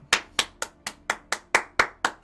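Slow, separate handclaps at a Battle of the Bards stage show, about nine crisp claps in an even rhythm, close and clear with no voices over them.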